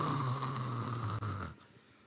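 A person imitates snoring with one long, raspy, droning breath that stops abruptly, loud and close, with no talk.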